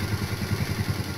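A motorcycle, an ojek, pulls up and idles in front of a house, its engine putting out a steady, even, low chugging pulse throughout.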